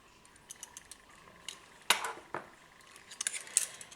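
Plain flour and baking powder stirred together in a bowl, with scattered soft scrapes and light clinks of a utensil against the bowl, a couple of sharper knocks near the middle, quiet and close.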